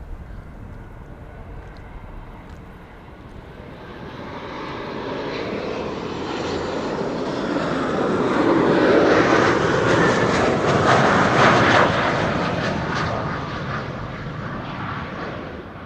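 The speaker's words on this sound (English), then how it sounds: "Delta Airlines flight 56 arriving from Salt Lake City is behind Queenie." A Delta Airlines jet arriving from Salt Lake City approaches Amsterdam Schiphol Airport on a sunny day, its engine roar swelling from a distant rumble to a loud, broad peak before easing slightly.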